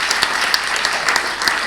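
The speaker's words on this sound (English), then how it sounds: "So a big round of applause now for everybody in this room." Steady applause from a room full of people at a celebration for a sustainable wood organization, dense clapping throughout with brighter individual claps standing out.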